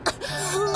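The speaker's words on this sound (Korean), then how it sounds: "요새 자꾸 기침이 나와." A cartoon bus character gives a short, throaty cough, one quick burst followed by a strained voiced rasp, close and clear.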